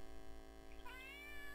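A cat in the video game Mad Nords gives a single clear meow near the end, rising and falling in pitch over a quiet, steady background hum, with no talking.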